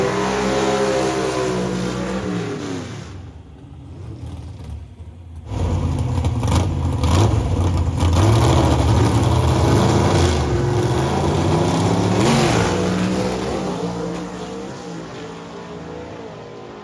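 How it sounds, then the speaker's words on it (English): A 1951 Henry J gasser drag car in the A-gas class, its engine roaring loud and close. It drops out briefly, then comes back with hard revving and rising, sustained acceleration before fading. "this 51 Henry J competes in the A-gas category"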